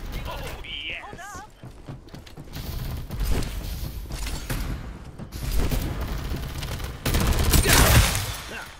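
Gunfire in the battle royale game Farlight 84, bursts of shots crackling through a busy mix of in-game effects and mechanical clatter, loudest near the end, with voice lines and chatter around it.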